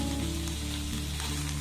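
Cashew, poppy seed, melon seed and green chili paste hitting a hot pan, a brief steady sizzle with low hum beneath, close and without speech.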